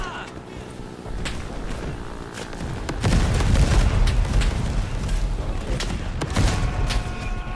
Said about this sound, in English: Alright, I might be able to get my grenade in now.